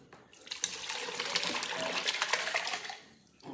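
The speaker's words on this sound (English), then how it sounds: "we're gonna go ahead and pour this broth and the meat right into the onions" Broth and meat poured into a pot of cooked onions for French onion beef noodle soup, a loud, continuous splashing gush of liquid lasting a few seconds before tapering off.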